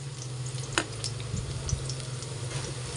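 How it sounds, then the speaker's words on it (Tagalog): Garlic sautéing in a pan of hot oil, a steady close sizzle and crackle with a few light stirring scrapes, no talking. "igigisa na natin yung bawang natin"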